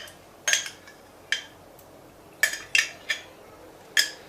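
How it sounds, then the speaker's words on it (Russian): Thick sour cream scooped from a container into a kitchen dish, a handful of sharp utensil clinks and taps against the bowl spaced irregularly, close and fairly quiet with no talking. "Теперь берем сметану и в какую-нибудь посуду ее вываливаем."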